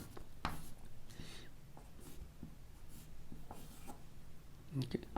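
A pen scratches out chemistry structures by hand in short bursts of scribbling strokes, close and faint, running under a man's speech.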